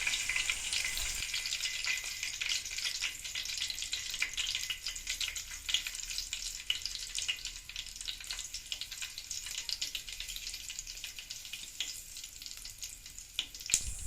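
Cumin and mustard seeds crackle and sizzle in hot oil in a steady, dense hiss with scattered pops, close by and continuous with no talking.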